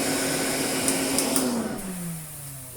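A Hoover Constellation 862 floating vacuum cleaner runs steadily with suction at close range, its broadband whine holding level before the motor pitch slowly drops as it starts to wind down near the end.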